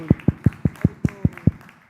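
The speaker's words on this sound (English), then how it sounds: "let's give a big round of applause for her" Eight evenly spaced, close claps from a temple gathering at ISKCON of Silicon Valley, a short steady rhythm with no other sound around them.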